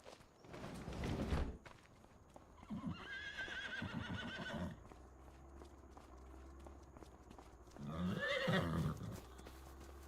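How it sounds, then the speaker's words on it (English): A horse whinnies loudly twice in Farming Simulator 25, with hooves clip-clopping in between and a steady low hum beneath. "Take one of these horses out."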